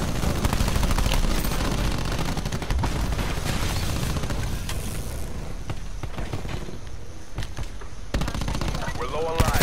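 Rapid automatic gunfire in the Call of Duty Black Ops 4 heist mode, loud sustained bursts with booms mixed in, while a player talks over the shooting.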